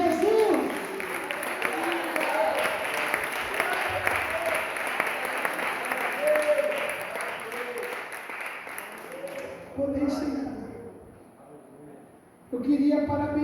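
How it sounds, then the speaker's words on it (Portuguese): A church congregation at a Feast of Tabernacles service claps loudly and continuously for about ten seconds, then the applause fades to a quieter patch before a burst of clapping resumes near the end, with a voice speaking over the crowd. "renda palmas ao Senhor Jesus"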